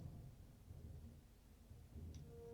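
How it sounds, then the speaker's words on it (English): Low rumbling thunder rolls through a snowstorm in the video game Deadly Premonition 2, a steady deep murmur with a swell near the end and a brief high tone above it. "Thunder snow is coming."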